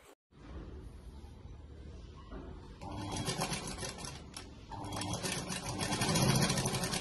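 A sewing machine stitches the folded edges of a pillow cover, a steady mechanical whirr that runs continuously and grows a little louder and busier toward the end.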